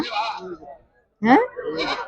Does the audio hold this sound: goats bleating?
yes